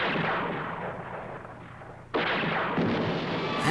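Loud, harsh gunfire bursts from the TV series Supercar, with heavy rumbling blasts, a continuous barrage that jumps even louder partway through, with no voices.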